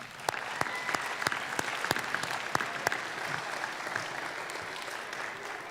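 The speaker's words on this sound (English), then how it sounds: "Students, please give your family members a round of applause." Students at the Meridian Academy High School 2024 graduation ceremony applaud their families in a large room. The clapping is brisk and full, with sharp individual claps standing out early, then thins and softens toward the end.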